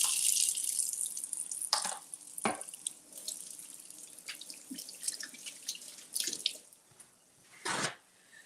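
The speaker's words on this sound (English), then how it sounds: "Let me wash my hands." Tap water runs steadily into a sink while hands are washed in a kitchen, with a few splashing bursts and a louder gush near the end, close by and with no talking.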